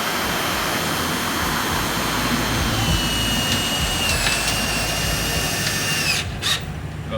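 A power drill drives screws into a 2x wood board while a mailbox is installed. It gives a loud, sustained whirring drone with small changes in pitch, then cuts off abruptly near the end. No speech is heard.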